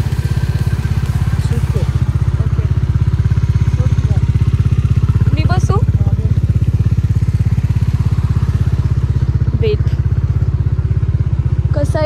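An off-road motorcycle runs steadily and close throughout, its engine a continuous loud drone with a few voices faintly breaking in over it.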